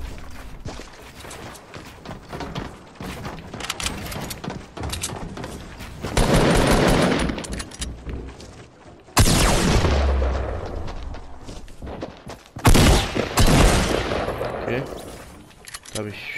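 Rapid bursts of gunfire in the video game Fortnite crack in loud clusters, including a hunting rifle, with heavy volleys breaking out several times amid continuous noisy action.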